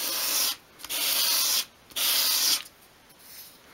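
Three firm sanding strokes on the edge of a tiny 1/12 scale miniature mirror glass, each a near, rasping sweep lasting about half a second to a second, separated by short pauses.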